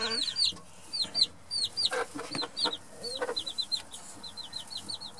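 A Silkie hen with newly hatched chicks in a brooding pen: repeated high chick peeps ring out in quick runs alongside the hen's low clucks, close and lively, with no talking.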